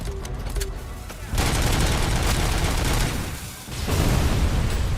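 Sniper gunfire in the Robocop: Rogue City video game: heavy, loud shots and bursts over a dense battle roar, after a couple of sharp tones at the start, with a brief dip before the shooting resumes.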